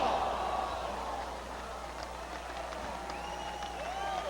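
A wrestling crowd in Melbourne cheers and applauds at a steel cage match between Sabu and Devon Storm, a broad roar of clapping at moderate distance with a commentator talking over it.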